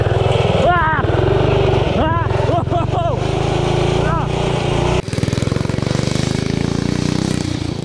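A 90-degree Sidewinder mini bike engine runs loud and steady throughout, with the pitch swooping up and down as the throttle is worked, and voices talk over it.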